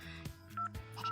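Dual-tone keypad beeps from a phone being dialed to call someone, a few short steady tones in quick succession, clear and close with no voice over them.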